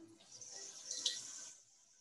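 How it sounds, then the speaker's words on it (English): Small amount of water poured into a hot pan to deglaze it, a faint soft hiss and trickle lasting about a second and a half, then fading out. "So pour a little bit of this water in."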